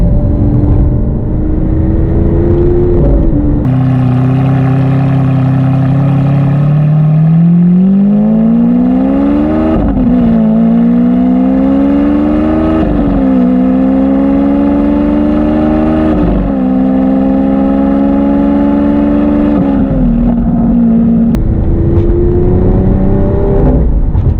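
A loud, close Lamborghini Aventador engine revving through repeated rising pitches as the car accelerates hard, shifting gears several times with a brief drop between pulls.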